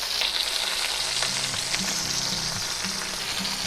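Garlic cloves sizzle and crackle as they fry in a hot pan over a burner turned down to medium, a steady close frying hiss with no talk.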